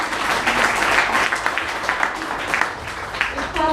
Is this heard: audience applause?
yes